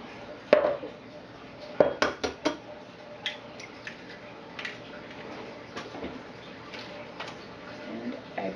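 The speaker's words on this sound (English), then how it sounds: "we're going to bring that bowl back that we melted our butter in so that we have something to just kind of crack the eggs into" Eggs cracked one at a time into a bowl that held melted butter, for snickerdoodle dough: sharp taps against the rim and soft wet drops, a few distinct knocks close up with light kitchen clatter between.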